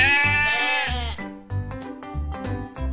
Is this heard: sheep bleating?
yes